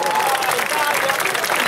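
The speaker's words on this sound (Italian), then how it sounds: "un applauso all'Italia" An audience applauds a contestant named Italia at a local talent show, a dense, steady wash of clapping with crowd noise and a voice talking over it throughout.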